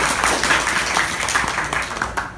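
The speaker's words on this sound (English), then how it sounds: "Clap if you want to hear a joke." A small comedy-club audience clapping at a Thai restaurant show, a continuous dense patter of applause that stays loud throughout.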